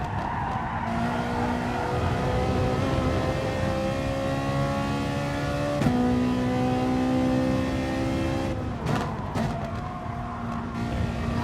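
A Toyota GT86 racing in GT Sport during an FIA Manufacturer's Series race: a loud, steady engine drone with shifting revs and tire squeal, continuous throughout, with a brief gear change or bump near the end.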